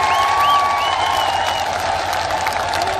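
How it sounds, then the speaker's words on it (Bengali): Crowd at an election campaign rally in Kaliaganj, applauding steadily while women's high ululation and conch-shell tones ring over the continuous clapping. "তোমাদের হাততালি মায়েদের দাও"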